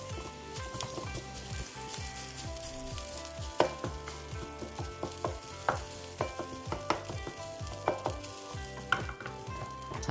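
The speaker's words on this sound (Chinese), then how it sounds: "像我这样子，先把这个三文鱼先铲" A spatula breaks up salmon in a pan of fried rice, making a quick run of close scraping and tapping knocks against the pan, repeated at an uneven, busy rhythm over a faint background.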